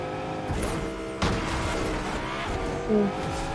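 A vehicle pulls away in Fortnite, engine revving loudly and steadily with a couple of sharp bumps or tire squeaks as it accelerates off.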